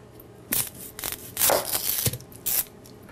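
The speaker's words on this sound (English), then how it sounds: "I always rinse my onions and then cut off the head and the root." A knife slices the head and root off a rinsed onion on a board, giving a few short crisp cuts and scrapes in separate bursts, close and fairly quiet with no talk.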